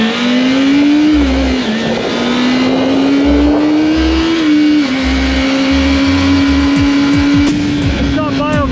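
A Kawasaki ZX25R motorcycle rides along the road, its high-revving engine whining loud and close, the pitch rising and dipping steadily, then climbing sharply at the end.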